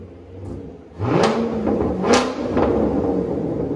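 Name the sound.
Chevy Corvette engine revving with new exhaust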